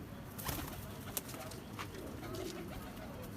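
A domestic pigeon, a green-and-pink-winged Chinese breed hen, coos softly among steady outdoor noise, with a few brief clicks or flaps.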